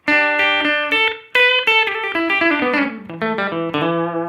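Electric guitar through a Headrush effects unit plays a descending run of single notes and chords, each wash of tone ringing out with a spacious, lingering reverb tail.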